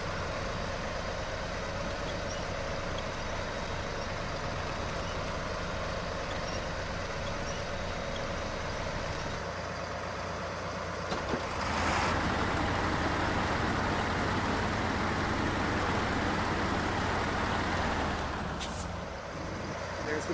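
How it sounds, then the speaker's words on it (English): Truck engine in the video game Snowrunner, hauling a trailer off-road, drones steadily throughout with a broad rumbling roar, growing slightly louder and rougher around the midpoint, with a brief hiss near the end. "There's the truck trying to climb trees again."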